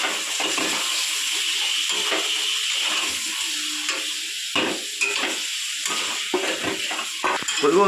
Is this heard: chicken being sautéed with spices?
yes